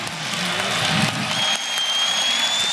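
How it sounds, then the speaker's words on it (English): A large motivational seminar crowd claps and cheers energetically, a dense, loud wall of applause from many people with a faint tonal whistle riding on top. "We'll clap."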